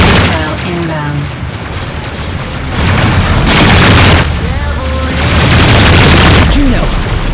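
Missile explosions in the space combat game Rebel Galaxy Outlaw, loud repeated booms and blasts rolling over one another amid dense battle noise, with a voice speaking over it.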